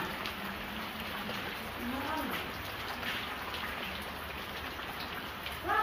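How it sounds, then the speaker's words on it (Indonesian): Steady rain falls throughout, a dense, even hiss of drops on surfaces, with faint indistinct voices underneath and a brief louder swell at the very end. "Ini hujan dari tadi"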